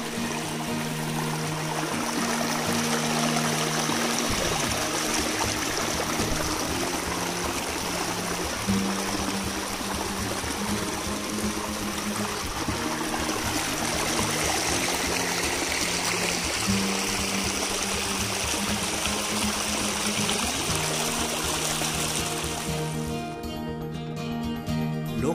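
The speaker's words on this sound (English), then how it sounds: "a fresh stream of water is flowing." A fresh hillside stream of drinking water flows at Udayagiri hills in Nellore, a steady, close, continuous rushing and trickling wash with no break, heard alone throughout.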